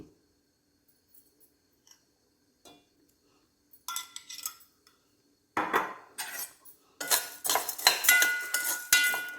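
Chana dal and urad dal are stirred in a pan with a few drops of oil, giving sparse scrapes and then brisk, repeated metallic clinks and rattles of the spoon against the pan, growing louder toward the end.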